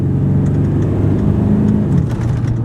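A 7.3 Power Stroke diesel truck driving at low speed, its intake and engine giving a continuous loud, deep drone with slight swells in pitch, close and unbroken.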